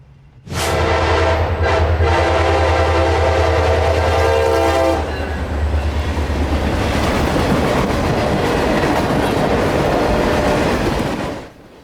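A freight train in Central Florida sounds a loud, sustained horn at close range, then roars past with rumbling wheels and rail clatter that fade out near the end.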